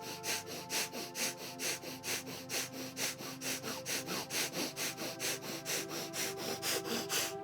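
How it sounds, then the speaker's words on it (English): Quick rhythmic nasal breaths with a closed mouth, pumped from the belly, about three sharp puffs per second, close and steady over a faint tonal background. "the breath is done with a closed mouth, with quick breaths pumping the belly, but the breaths come in and out of the nose"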